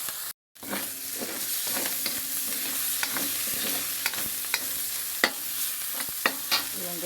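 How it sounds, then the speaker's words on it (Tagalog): Chopped vegetables with pechay and ground meat sauté in a hot pan, a steady close sizzle broken by scraping stirs and small clinks of the spatula throughout. "gisa-gisa natin yan guys para tumarap yung ating luto"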